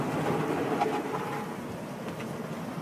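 At a car wash, a Rain-X curtain sprays water in a steady, even hiss like heavy rain, continuous and fairly soft for the whole stretch.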